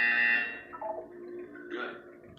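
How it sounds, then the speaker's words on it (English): Electronic buzzer in the video game Portal 2, a sustained bright tone that cuts off, followed by fainter synthetic chirps and a second softer buzz, heard alone. "You will hear a buzzer."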